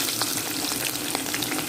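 Onions fry in a pan with a soft, steady hiss and faint crackles, up close and fairly quiet.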